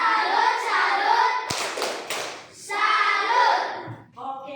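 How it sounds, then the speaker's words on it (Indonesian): Children in a classroom clap their hands in a short, sharp burst among a few thuds and taps, with loud children's voices chanting in unison before and after. "Tepuk tangan salut untuk anak-anak hebat."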